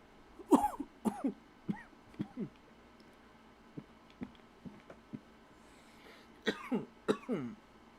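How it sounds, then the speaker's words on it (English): Pokeball in a Doki Doki Panic game session giving off odd cough-like sounds, a series of short rasping bursts near the start and again toward the end, separated by faint clicks and quiet gaps. "sometimes there's a sound that sounds like somebody's choking to death or coughing their brains out"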